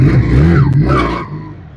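A Harley-Davidson Spyder V4 chopper motorcycle engine revs loud and close, a deep throbbing drone rising in pitch and then easing off as it settles over about two seconds.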